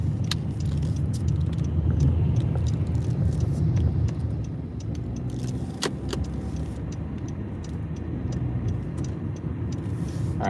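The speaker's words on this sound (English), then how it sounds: "I'm driving." A car driving on the road, heard from inside during food delivery rounds, gives off a continuous low engine and road rumble with faint clicks and rattles, steady and near, with no talking.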